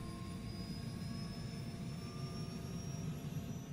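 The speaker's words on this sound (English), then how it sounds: "great engine simulation from the Turbine Duke." Steady turbine engine drone from a Turbine Duke in a flight simulator, a constant low rumble with a thin high whine running over it, even and continuous throughout, with no voices.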